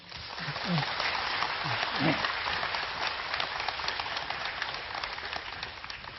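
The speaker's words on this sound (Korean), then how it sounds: "박수 부탁드립니다" Lecture hall audience applauding a guest speaker at a public academy talk, a sustained, even wash of many hands, moderately loud, with a few voices briefly over it at the start.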